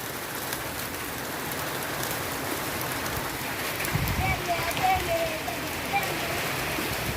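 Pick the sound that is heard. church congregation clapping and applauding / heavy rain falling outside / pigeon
heavy rain falling outside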